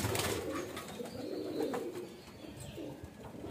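Pigeon cooing up close, a soft continuous burbling coo with low throaty pulses repeating over a few seconds, no voices over it.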